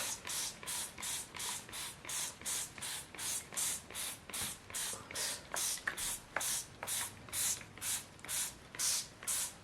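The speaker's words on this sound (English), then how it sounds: "And then spray it with water all over, make it nice and wet." A spray bottle squirts water again and again onto mulberry paper in a steady rhythm of short hissing bursts, close by, with no talking.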